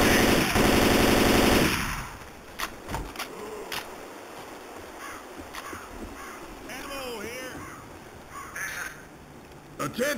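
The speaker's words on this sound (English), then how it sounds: "Watch where the hell you're shooting!" Rapid automatic gunfire rattles loudly at the start of a Left 4 Dead 2 farmhouse finale, then gives way to scattered shots and game sounds while players talk.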